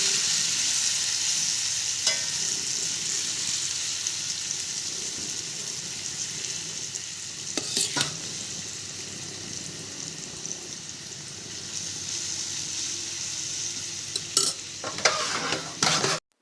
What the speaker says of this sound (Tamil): எண்ணெய் நல்லா சூடானதுக்கப்புறம் சேனைக்கிழங்கு ஆட் பண்ணி நல்லா கோல்டன் கலர் வர வரைக்கும் ஃப்ரை பண்ணி எடுங்க